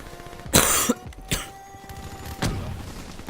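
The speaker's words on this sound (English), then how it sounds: "Just I was coughing." A few sharp coughs, one burst then two shorter ones spaced apart, fairly close with quiet background between.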